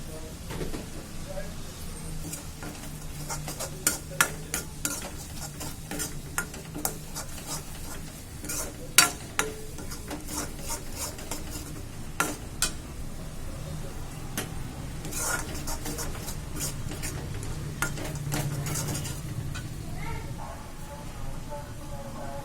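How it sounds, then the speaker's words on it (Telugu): A spoon stirs chili powder and coriander powder into a chicken curry base frying in a pan, with repeated scraping clicks against the metal over a faint, low sizzle, and nobody speaking. "2 టేబుల్ స్పూన్స్ కారం పొడి, 1 టేబుల్ స్పూన్ ధనియాల పొడి వేసేసి చక్కగా కలిపేసుకోవాలి"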